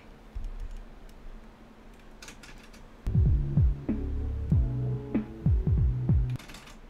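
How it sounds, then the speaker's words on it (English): A sequenced electronic track plays from an Insonic keyboard, opening quietly and then breaking into punchy, rhythmic bass pulses with a steady synth hum, loud and close. "That's just the sequencer, right, from the Insonic."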